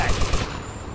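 Rapid gunfire crackles in GTA Vice City Stories, a dense run of close shots with a few strong bursts before settling into a steady noisy wash.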